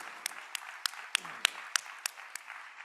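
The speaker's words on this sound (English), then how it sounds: "So give yourselves a round of applause." Applause from an audience at a school district board business meeting, steady light clapping with a few sharp, louder claps standing out, fairly quiet overall.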